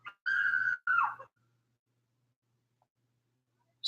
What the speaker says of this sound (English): Screaming outside my window.